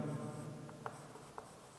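Chalk or marker scratches faintly across a board during a chemistry nomenclature lesson, with a few brief squeaky strokes and taps over a quiet hum.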